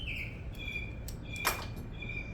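Bird chirps outdoors near an Aston Martin DB11 V12 during a spark plug and coil pack job, a few thin high chirps over steady low background rumble with no talking.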